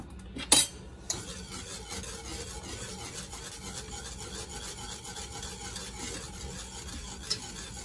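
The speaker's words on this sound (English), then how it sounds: "Whisk it in." A whisk works canola oil into a Carolina Gold or Memphis-style BBQ sauce off the heat with a soft, continuous scraping swish. A few sharp clinks come near the start.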